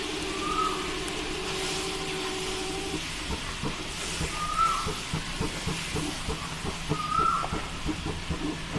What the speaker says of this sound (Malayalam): ആദ്യം നമുക്ക് കുറച്ച് പാൽ ഒഴിച്ച് ഈ കട്ടയെല്ലാം ഒന്ന് മാറ്റി നന്നായിട്ടൊന്ന് മിക്സ് ചെയ്തെടുക്കാം.